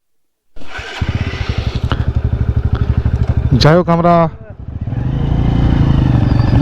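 Motorbike engine starting and revving as the rider heads through the jungle, a loud close rhythmic putter that rises to a steady roar, with a brief spoken phrase over it.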